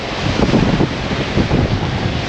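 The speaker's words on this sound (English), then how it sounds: "I'll just give you some idea of how windy it is." Strong winter wind buffeting the microphone at the seaside at Weston-super-mare, a loud continuous roaring rumble with gusty surges and no voices.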